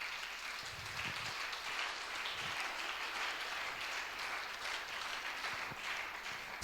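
A church congregation applauds to acclaim God, steady broad clapping from many hands filling the room at a moderate, distant level with no break.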